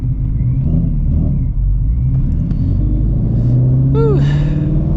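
A supercharged 2015 Shelby GT350 running on race fuel, heard up close with a loud, steady engine rumble that climbs into a rising supercharger whine and rev sweep near the end.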